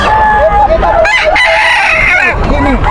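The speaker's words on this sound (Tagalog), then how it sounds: "Boss Jojo, magkano yung dala mo manok na yan?" A rooster crows loudly and close by, a long strained call, with clucking and people talking in the background.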